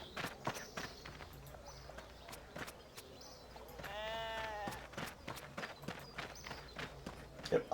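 Sheep in the video game RuneScape, with one clear wavering bleat in the middle, surrounded by frequent soft footstep-like clicks and taps.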